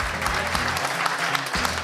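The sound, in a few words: audience applause for a comedian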